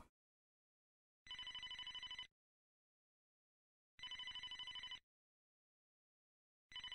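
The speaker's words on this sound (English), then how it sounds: "Phone's ringing again." Telephone bell in the Ridgewood Road video game, sounding in loud electronic bursts of about a second each, separated by silent gaps of nearly two seconds, repeating three times.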